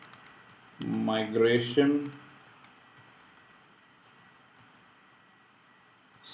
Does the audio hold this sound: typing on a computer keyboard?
yes